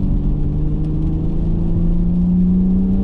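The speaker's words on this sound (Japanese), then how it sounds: "今スポーツモードで走ってますけど、相当足は固めですね。" BMW Z4 M40i roadster with a 3-litre straight-six turbo, roof closed, driving a winding mountain road in sport mode: steady loud engine drone with a low rising tone, continuous cabin rumble and no talk.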